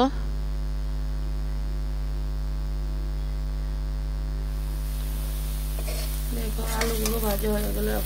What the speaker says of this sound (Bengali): হলুদ দিয়ে আরও কিছু সময় ভেজে নেব।